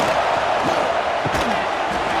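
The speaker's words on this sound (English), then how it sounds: "Listen to the crowd energy here in the early going." Stadium crowd roaring steadily at an LSU vs Clemson college football game, a dense, loud wash of cheering that fills the whole moment without letup.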